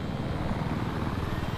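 Viper attack helicopter in Battlefield 3, its rotor and engine droning in a loud, continuous low throb with no break.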